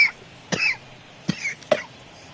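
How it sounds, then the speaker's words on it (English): A few separate coughs from someone who is ill, three or four short sharp bursts spaced about half a second apart, close and fairly loud over quiet background. "I still have the sickness cough"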